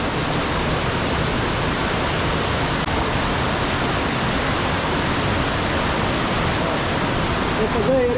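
The Vorotan river in Armenia rushes loudly and steadily, a dense, unbroken roar of flowing water close by with no pauses.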